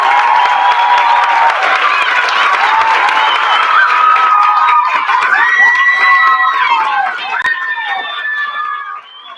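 Graduates at a school end-of-year ceremony are applauded by a large audience, with sustained loud clapping and cheering and shouting voices mixed in throughout.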